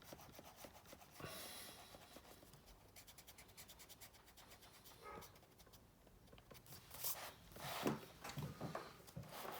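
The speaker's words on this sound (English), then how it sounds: "I'm just going to rub out some of these lines to hopefully make it a bit clearer about what's going on." An eraser rubbing out pencil lines on paper makes soft, quiet scratchy scrubbing strokes in short repeated bursts, close up, with no talk.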